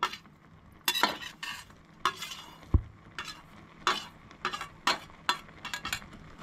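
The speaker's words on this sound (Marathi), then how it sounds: "हे पळय सोय बरी मिक्स करून घेवंक जाय" Soya chunks stirred in a pan while cooking a Goan home-style veg thali: repeated scraping strokes of a spoon against the pan at an irregular rhythm, with a faint sizzle and an occasional clink between them, close and fairly quiet.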